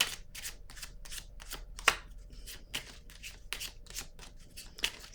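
Tarot cards are shuffled and drawn in a quiet room, with soft papery slaps and riffles coming in quick irregular bursts, plus a few sharper flicks.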